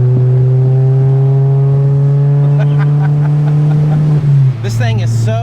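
A Mini Cooper is driven hard around corners, its engine droning at a steady high pitch that drops near the end as the car slows, with a voice briefly audible over it.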